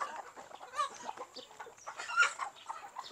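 Black Australorp and Rhode Island Red chickens cluck and murmur softly in a continuous, uneven chatter, with a few sharper calls rising above the flock at a moderate distance.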